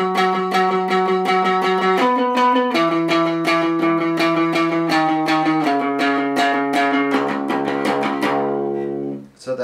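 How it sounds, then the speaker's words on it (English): Distorted electric guitar playing a riff that follows the bass line of a song, chugging sustained notes with rhythmic picking that shifts pitch every couple of seconds, loud and up close, ending in a brief feedback-like swell. "The other guitar is following the bass line, which sounds like this."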